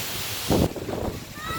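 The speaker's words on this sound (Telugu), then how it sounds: "ఫుల్ ఈదురుగాలు." Strong summer storm wind buffets the microphone in rough, gusty surges with a burst of rushing noise, while a voice speaks briefly over it.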